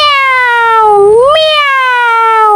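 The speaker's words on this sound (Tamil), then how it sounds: "பூனை எப்படி கத்தும்?" A cat lets out a single long, loud, drawn-out meow close by, its pitch dipping and then rising sharply partway through before it trails off.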